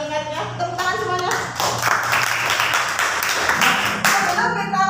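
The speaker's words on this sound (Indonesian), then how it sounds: "Kita tepuk tangan dulu untuk teman-temanku yang tadi sudah menjawab semua pertanyaan dan mengingatnya." A classroom group claps hands in a quick burst of rhythmic claps, close and lively, with voices and humming tones mixed in.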